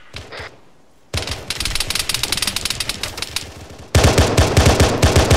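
Rapid automatic gunfire in a Halo mod battle, first in steady bursts of close, sharp shots, then a louder, denser stream of fire kicking in near the end, with no talking over it.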